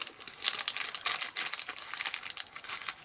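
Scissors crunch through the top of a plastic treat bag on a Halloween treat box, a series of crisp, crinkly snips and rustles close up with no talking.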